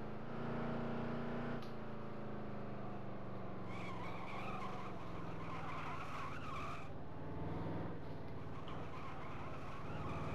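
Race cars in an EWRL S6 Cup sim race on the Charlotte Roval, engines droning steadily with shifting pitch and tire squeal as a pack passes close and keeps lapping.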